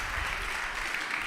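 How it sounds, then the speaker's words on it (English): An audience at an Egis Foundation adaptation night event gives a dense, steady round of applause that stays even throughout the short stretch, with no talk above it. "Big round of applause."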